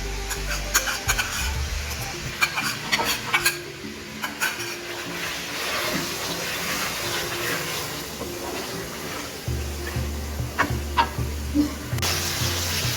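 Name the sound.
garlic and ginger paste sizzling in a pan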